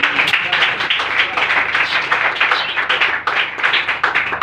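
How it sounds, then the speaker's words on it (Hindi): An audience at a religious talk gives loud, dense applause, a continuous crackle of many hands sustained for a few seconds with no pause, close and full. "आप सब अपने लिए एक बार जोरदार तालियां"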